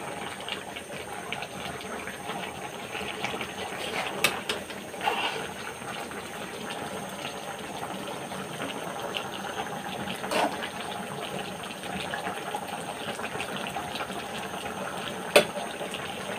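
Water is poured as broth into curry cooking in a pot, making a steady, continuous gushing and splashing that runs for a long stretch at moderate volume, with a few faint clinks.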